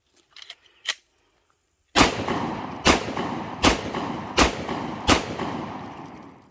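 A PSA Dagger pistol fires after being dropped in mud, five sharp, loud shots spaced roughly a second apart, each followed by a short ringing decay, preceded by faint handling clicks.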